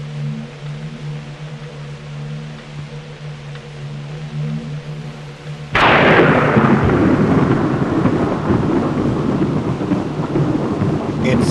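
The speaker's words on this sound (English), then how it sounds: "It's still a dark and stormy night." Thunder on a dark, stormy night: after a low rumbling lull, a sudden loud crack bursts into a long roll of thunder that keeps rumbling and hissing with rain until the end.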